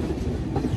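The Chozhan Express train rolls along the rails with a steady low rumble and faint clickety-clack, heard from inside the coach at moderate volume for a moment. No one talks.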